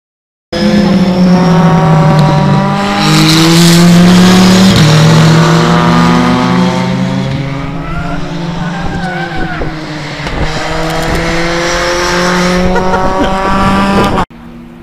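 Race cars, including small open-wheeled EcoBoost single-seaters, a Porsche 911 and a touring car, roar past at a race track, engines loud and close with rising and falling pitch as they shift gears, continuous for most of the stretch.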